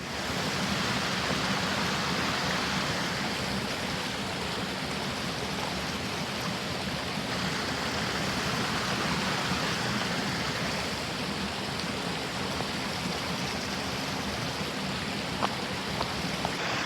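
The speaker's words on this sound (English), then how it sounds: "Sitting right by the waterfall," A waterfall and creek rush constantly nearby, a loud, even hiss of flowing water with no pauses and no voices.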